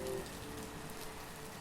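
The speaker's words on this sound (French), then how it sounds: "il commence à pleuvoir des cordes." Heavy rain pours down in a Paris park, a steady dense hiss of drops hitting grass and surfaces that holds at an even level throughout, with no voices.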